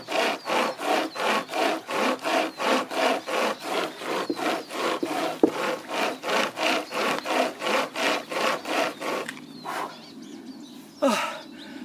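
A Fiskars or Nordic hand pocket saw cuts wood in about twenty steady back-and-forth strokes, rasping and rhythmic up close, then stops; a faint bird calls near the end.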